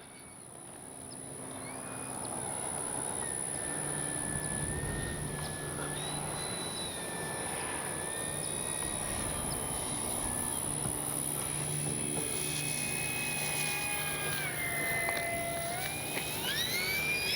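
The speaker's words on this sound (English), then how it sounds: "show off this beautiful little plane" An FMS P-51 Miss America radio-controlled model warbird flies overhead in gusty crosswind, its electric motor whining steadily with rising and falling pitch sweeps as it passes, outdoors with faint insect and bird sounds beneath.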